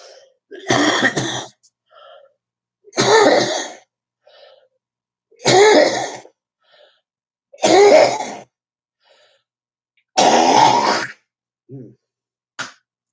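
Five harsh coughs spaced a couple of seconds apart, close and loud, with quiet gaps between and a short throat sound at the end.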